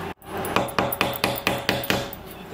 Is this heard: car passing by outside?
no